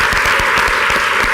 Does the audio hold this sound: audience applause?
yes